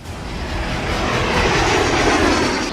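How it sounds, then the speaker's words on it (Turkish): The Kızıl Elma unmanned combat jet flies during a flight test, producing a loud, steady roaring jet engine rush that swells slightly and stays constant throughout, with no voices. "Kızıl Elma insansız savaş uçağı 8. uçuş testini de başarıyla tamamladı."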